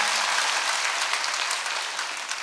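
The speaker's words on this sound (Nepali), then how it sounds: "एकपल्ट ताली मजाले बजाएर बजाएर" An audience at a political rally applauds, a dense, steady clapping from many hands filling the space without pause.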